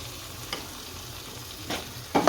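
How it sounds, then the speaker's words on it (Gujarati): Coriander being stirred into moong dal in a pan, with a soft, quiet sizzle and a few light scrapes and taps of the spoon, the last one louder. "અને હલાઈ નાખશું ધાણાને।"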